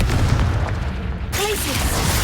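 Confringo blasting spell from the Hogwarts Legacy video game: a deep booming burst over continuous game ambience, followed by brief bright tonal zips as the effect trails off, loud and close.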